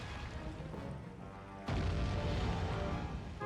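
A ship's cannon fires in the Sly 3 video game, a single heavy boom that lands suddenly and then rumbles on over a busy, dense background of game sound.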